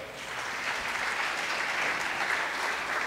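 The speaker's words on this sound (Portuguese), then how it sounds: "Dá um aplauso e fica de pé." Worshippers in a church clap together as they rise to their feet, an even, continuous roar of many hands at moderate loudness with no voices over it.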